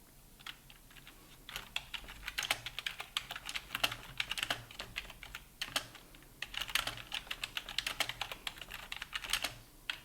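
Soft typing on a computer keyboard in a quiet ASMR setting, with irregular bursts of light clicks and short pauses, close and gentle, with no talking.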